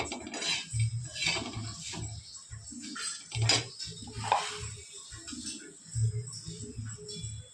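Garlic fry mixture being stirred in a pan over low heat, a spoon scraping and clinking against the metal in irregular repeated strokes, fairly close, with no talking.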